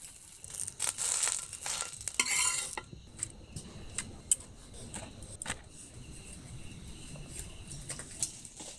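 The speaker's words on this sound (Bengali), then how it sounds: "আর এইটা ভাজলে আমাদের সরু চাকলি ভাজা হয়ে যাবে।" Soru chakli pitha, a thin rice-batter pancake, cooking in a pan: a burst of sizzling and utensil scraping early on, then quieter frying with occasional clinks and taps.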